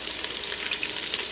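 Steady, close sizzling of Italian bird's nests frying in oil in a pot, a continuous crackly hiss with small pops throughout.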